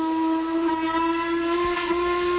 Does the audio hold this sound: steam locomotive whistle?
yes